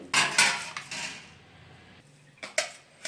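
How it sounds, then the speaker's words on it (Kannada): A spoon clinks and scrapes against a bowl while a vegetable salad is tossed with roasted seeds, dry fruits and paneer, with a few sharp close knocks separated by quieter pauses. "ಸೊ ಇದಿಷ್ಟನ್ನು ಮಿಕ್ಸ್ ಮಾಡಿಕೊಡಿ"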